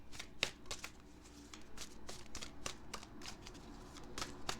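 Tarot cards being shuffled by hand, a run of crisp riffling flicks and soft slaps at a quick irregular rhythm, close and fairly quiet with no talk.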